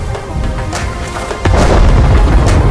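An American M44 self-propelled artillery piece firing in World of Tanks on the Swamp map, two heavy, booming shots close together, the second deeper and fuller, with a low rumble carrying on after each.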